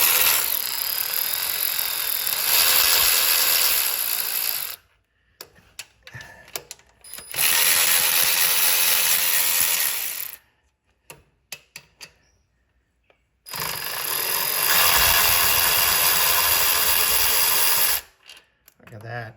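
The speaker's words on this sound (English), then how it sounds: "started loosening the bolts" A ratchet loosens bolts on a Nissan Versa in three long, loud mechanical whirring bursts of several seconds each, separated by quiet pauses with light handling clatter.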